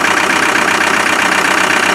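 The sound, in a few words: Land Rover 300Tdi diesel engine running with back pressure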